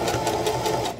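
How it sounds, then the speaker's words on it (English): A Singer heavy-duty 44S sewing machine stitching a straight line through denim, close and loud, with a rapid, even mechanical chatter of needle strokes in a steady rhythm and no talk over it. "I'm going to sew the straight line."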